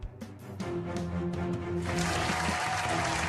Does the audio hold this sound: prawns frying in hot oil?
no